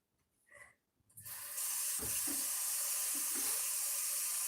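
Regular tap water gushes steadily into a container, a loud continuous hissing splash that starts abruptly after a brief quiet moment, with faint low thumps of the vessel being handled.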